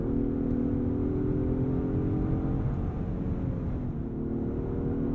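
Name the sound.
twin-turbo V6 engine revving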